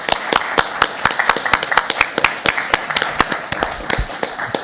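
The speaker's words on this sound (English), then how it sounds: "And a round of applause, I think," Applause at a county council health and wellbeing board meeting, a small group in a room clapping with distinct, close hand claps in an uneven rhythm, loud and without talk.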